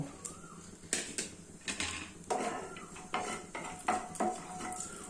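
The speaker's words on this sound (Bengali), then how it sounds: "এই তেলটার মধ্যেই আমি কাজু বাদামগুলো একটু ভেজে নেব হালকা করে ভেজে নেব" Cashew nuts fry lightly in hot oil in a pan, with a soft sizzle under repeated metal scrapes and clinks of a spatula stirring, fairly quiet and close with no talking.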